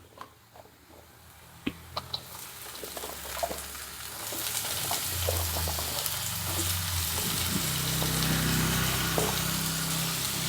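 Diced yellow pumpkin and onions fry in a pan as a steady sizzle that swells and grows denser partway through, with a few soft clicks of stirring and no talking.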